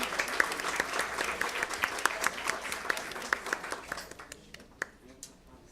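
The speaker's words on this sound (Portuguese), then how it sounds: "está batendo palmas para o nosso querido amigo" An audience at a talk on civil procedure claps for a dear friend, a journalist, with full applause that thins into scattered individual claps near the end.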